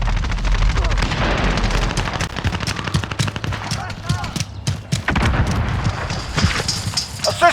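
Rapid automatic gunfire and booming explosions in a Call of Duty: Modern Warfare (2019) multiplayer Domination match on PC, loud and dense throughout, with in-game voices calling out over the shooting.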